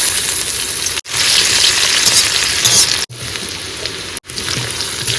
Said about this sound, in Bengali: তেল গরম হয়ে গেছে এবার দিয়ে দেবো কিন্তু পেঁয়াজ